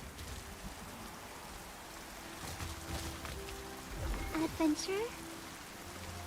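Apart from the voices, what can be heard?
rain falling in the video game Throne and Liberty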